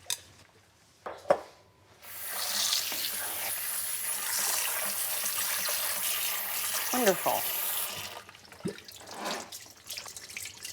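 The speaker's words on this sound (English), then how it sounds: "what I'm going to do now is rinse this and get the excess salt out in cold water" Cold tap water runs steadily into a sink as salted food is rinsed to wash off the excess salt, a continuous loud splashing rush lasting several seconds, with brief clatter and a short spoken word before and after the flow.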